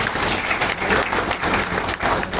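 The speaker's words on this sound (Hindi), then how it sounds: "सबसे पहले मैं चाहूँगा बच्चे, माता पिता, सारे लोगों इस संगठन के लिए तालियों से स्वागत किया जाए" Steady applause from an audience at a community event in Chhindwara, dense and continuous clapping filling the room for a couple of seconds, with no speech over it.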